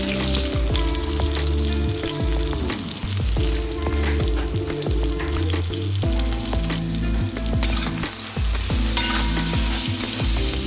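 Sliced eggplant seasoned with salt and turmeric frying in reused oil from lentil fritters, a steady loud sizzle with bubbling crackle and occasional clinks of a spatula, with no talking.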